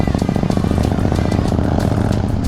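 A Harley-Davidson Low Rider S 114 cruiser's big V-twin engine rumbles loud and close, with a deep, rapid, uneven pulsing beat that holds steady throughout.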